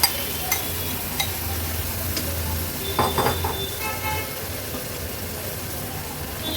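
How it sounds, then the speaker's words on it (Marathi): Peeled sprouted moong beans sauté in a little spice paste, giving a constant close sizzle with a few stirring scrapes and clinks, and a faint horn-like tone in the background. "मूग पण मसाल्यामध्ये छान परतून घेते."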